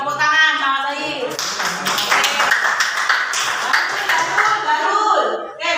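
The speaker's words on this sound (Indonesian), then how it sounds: "Tepuk tangan sama Sohib." A class of students clapping hands together in a classroom at a teacher-training session, a steady dense patter of claps following a brief spoken line and continuing under some voices.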